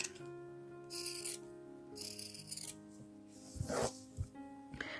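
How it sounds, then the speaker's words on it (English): Pinking shears trimming fabric around an oval, a few crisp rasping snips spaced about a second apart over a faint tonal background hum, quiet and close. "take pinking shears and trim all the way around the oval here"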